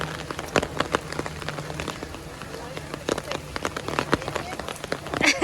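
Steady rain patters at a zoo on a very wet day, with dense drops hitting surfaces up close and sharper splats breaking through, while people talk faintly in the background.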